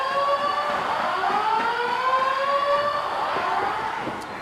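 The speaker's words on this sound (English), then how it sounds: "Siren sounds." A wailing siren rising and falling at a live wrestling show, signaling the next entrants in a battle royal; the sweeping tone runs loud and continuous from start to finish over faint crowd noise.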